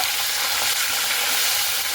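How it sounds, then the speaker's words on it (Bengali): Fish heads frying in hot oil in a pan, giving a dense, loud, continuous sizzle close up with no talking. "যেভাবে মাছ ভাজা হয় সেইভাবে কিন্তু মাথাগুলোও এইভাবে ভেজে নিতে হবে"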